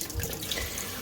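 Tap water runs steadily into a sink as salad greens are rinsed, a close, continuous hissing splash with no talk over it.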